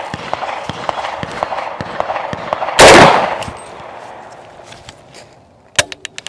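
A single loud, close gunshot from an AAC Honey Badger rifle that is failing to cycle the next round, cracking sharply over faint ambient clicks, followed by a few metallic clacks of the action.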